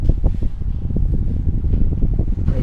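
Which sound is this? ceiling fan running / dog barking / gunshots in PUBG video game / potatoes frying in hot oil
ceiling fan running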